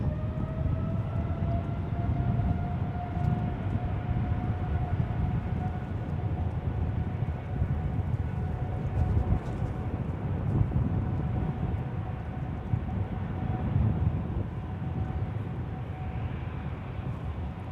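A six-year-old United Airlines Boeing 787-9 Dreamliner departs San Francisco International Airport, its jet engines a steady, heavy roar with a thin whine held above it for the whole stretch.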